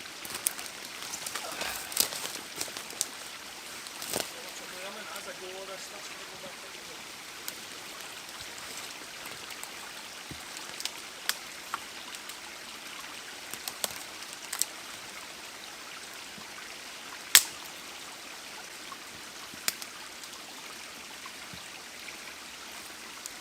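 Rain begins falling on a woodland bushcraft campsite, a soft steady patter with sharp drips and small knocks scattered through it.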